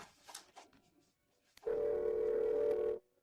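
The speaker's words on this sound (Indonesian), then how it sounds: "Aku akan telepon dia sekarang." A telephone dial tone after placing a call: a steady, loud continuous tone lasting about a second and a half, following a short stretch of faint clicks and handling noise.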